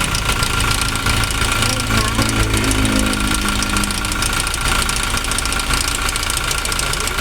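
An idling Toyota Revo pickup engine runs steadily with a persistent rattling knock beneath its hum, near the injectors, close up and fairly loud.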